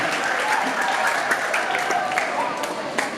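Audience applause after a grade 9 school choir performance for parents, a steady wash of many hands clapping at moderate level with faint voices mixed in throughout.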